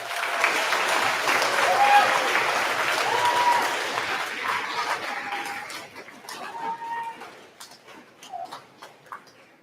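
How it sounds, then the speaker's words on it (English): Students and families at a 2022 middle school awards ceremony give loud applause for award winners. It fades after about five seconds into scattered claps, murmured chatter and a few clicks. "Let's give Mr. Brickman's award winners a big round of applause."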